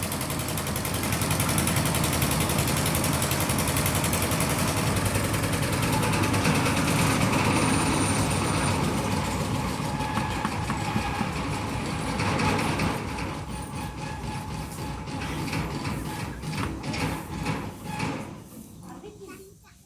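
A loud tractor engine drones and rattles continuously while people talk over it, the rumble easing somewhat toward the end.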